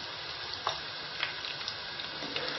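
Scotch eggs sizzle and crackle steadily in hot oil in a pan, with a few louder pops and spits over a constant frying hiss, close up and alone.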